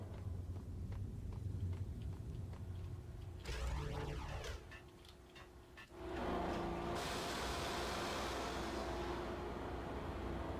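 In the Max Payne video game, a train powers up with a sudden electrical surge, a sweeping rising whine followed by a loud, steady humming roar that fills the rest of the scene.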